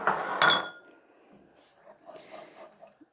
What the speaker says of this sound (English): And you just mix it around as it's cooking